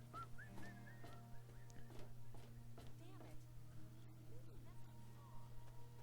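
Faint, wavering whistled notes in the video game Fallout 3 come in short melodic bursts over a steady low hum, with soft clopping sounds in the background.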